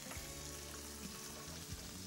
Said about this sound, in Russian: А пока цыпленок жарится, я оставлю его в покое, чтобы он обжарился как следует.